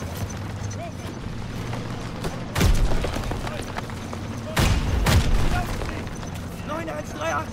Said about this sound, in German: Die Bomben kommen.